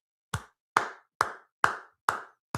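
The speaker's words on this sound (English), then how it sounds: "Round of applause." Five sharp, close claps from a single pair of hands, slow and evenly spaced about half a second apart, each standing alone in silence during a livestream.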